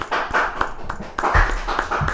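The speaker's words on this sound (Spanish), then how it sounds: "Un fuerte aplauso" A studio audience claps for a returning guest, a former senator, on a talk show. The clapping comes in uneven bursts of sharp hand strikes with brief lulls between them, fairly close and loud.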